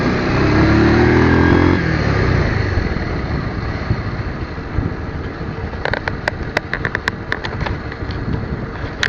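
A motorcycle engine drones and revs loudly at first, then settles into a rough, bumpy ride on a muddy, rocky road with sharp knocks and rattles as it jolts along.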